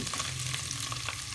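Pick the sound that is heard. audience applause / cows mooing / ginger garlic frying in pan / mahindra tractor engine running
ginger garlic frying in pan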